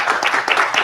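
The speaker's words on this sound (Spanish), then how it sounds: "Yo quiero un aplauso para él." Applause from an audience at a tribute ceremony honoring a professor, a short burst of dense, steady clapping heard close and alone.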